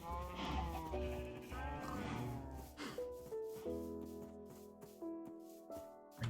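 A llama in Minecraft gives a few short, bleating calls over steady in-game music, with no talking.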